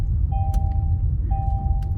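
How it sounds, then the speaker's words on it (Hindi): A Kia Seltos GT Line sits idling in neutral, its low, steady engine rumble heard from inside the cabin while a short electronic chime sounds twice over it. "अभी गाड़ी न्यूट्रल में चल रही है"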